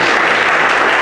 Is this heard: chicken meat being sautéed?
no